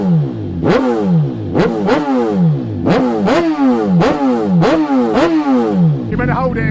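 A motorcycle exhaust is revved hard in short, repeated bursts for a noise test, each blip climbing and falling away, loud and close, with a brief voice at the very end.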